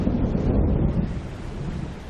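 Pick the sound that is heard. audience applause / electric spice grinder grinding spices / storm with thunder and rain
storm with thunder and rain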